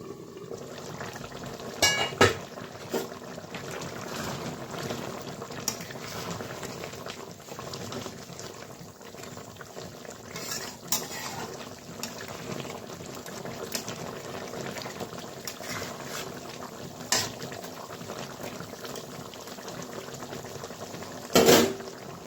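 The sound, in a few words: Aier fish simmering and boiling in a pot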